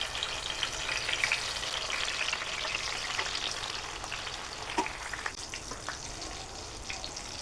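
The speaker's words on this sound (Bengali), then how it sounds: "তেলটা গরম হলে তারপর আমি একটা একটা করে বেগুন দিয়ে দিচ্ছি।" Eggplant slices frying in hot oil, a dense crackling sizzle that runs steadily throughout, close and fairly loud, with faint clicks from handling and no talk.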